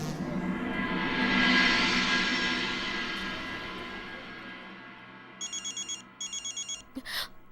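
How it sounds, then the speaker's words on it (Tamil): A telephone rings indoors in two bursts of rapid electronic trilling near the end, over a steady background hum. "வினய் ஃபோன் பண்றாரு"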